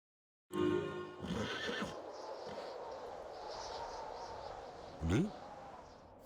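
A horse in a video game whinnies loudly and close, with a second shorter neigh a few seconds later over steady game background ambience.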